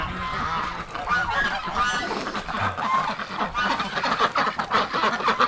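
Several geese honk loudly and repeatedly at close range, their calls overlapping in an agitated, continuous chorus.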